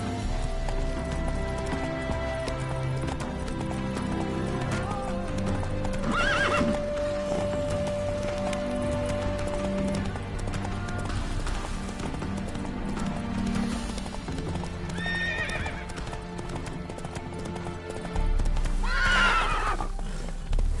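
Roach, the horse in The Witcher 3, gallops with a steady rhythmic clip-clop, with whinnies and neighs breaking through at intervals over a dense ambient game soundscape.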